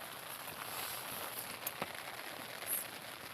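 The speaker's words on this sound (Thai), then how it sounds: "ฝนตกจ้าฝนตก" Rain falls steadily as a soft, even hiss, with a few louder drops pattering nearby.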